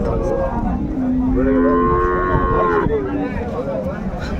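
A dairy cow lets out one long, loud moo close by, rising and holding before trailing off, over a murmur of background noise at a cattle market in Raniganj, Dinajpur.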